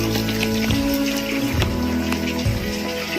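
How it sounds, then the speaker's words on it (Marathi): Heavy rain pours steadily at Kenjalgad fort, a dense, loud, unbroken wash of falling water with no gaps. "पाऊस जोरात आहे."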